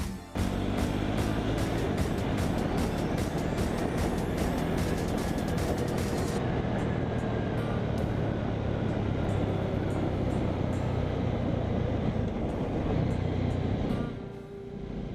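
A Jawa Forty Two motorcycle on a test ride gives a continuous loud engine drone blended with wind rush, with a higher whine and rising tones early on that fade before the roar eases near the end.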